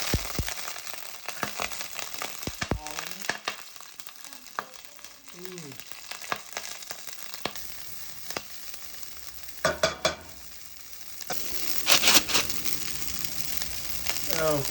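Vegetable stir-fry of winter cool-season crops, Asian style, sizzles steadily in hot oil, with scattered clatters of stirring and a voice speaking briefly partway through.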